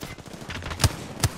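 Video game gunfire rings out as two short, sharp shots spaced apart, heard over a busy background of game sounds.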